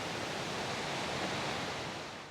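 Steady rushing waterfall beside a park trail at Cat Hollow in Dayville, Connecticut, a broad continuous roar of falling water heard from a moderate distance with no voices.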